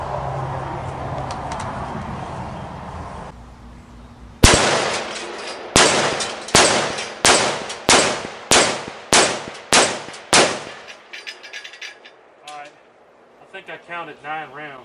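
Nine .308 rifle shots ring out in an evenly spaced string, each a sharp loud crack with a metallic clang as the round hits body armor 10 yards away. Talk comes before the string, and faint noises follow it.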